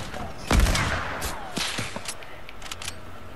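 Sniper rifle fire in a shooter video game: one heavy, booming close shot followed by several lighter, sharper cracks and some background game noise.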